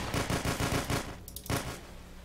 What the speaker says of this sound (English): Oh, lots of gunfire.